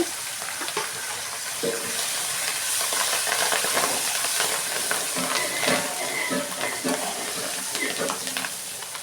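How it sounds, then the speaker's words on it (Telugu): Asafoetida, curry leaves and green chillies frying in oil as tempering for tamarind rice, a loud continuous close-up sizzle and crackle with stirring scrapes throughout. "ఇంగుతో సహా మొత్తం వేగాయి కరివేపాకు పచ్చిమిర్చి వేస్తున్నాను"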